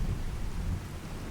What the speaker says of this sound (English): Oh man, that sounds like rain.